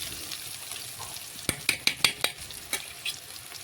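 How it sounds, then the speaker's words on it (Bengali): Salt being stirred into food frying in a pan, a soft sizzling bed broken by a quick run of sharp spatula clacks and scrapes against the pan in the second half. "লবণটা ভালোভাবে নাড়াচাড়া করে মিশিয়ে নিলাম"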